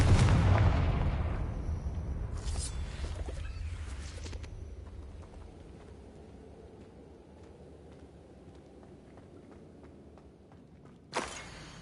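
In the Hogwarts Legacy video game, a Confringo fire spell explodes with a loud, deep boom that rolls away into a long fading rumble, followed by scattered light clicks and a sharp burst near the end.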